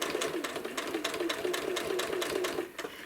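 A sewing machine quilting an apple core quilt runs at close range with a steady, fast, rhythmic stitching hum that holds throughout and eases off briefly near the end.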